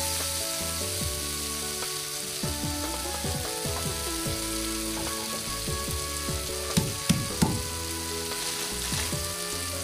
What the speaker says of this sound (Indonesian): bumbu yang telah dihaluskan tadi ya. Tumis sampai matang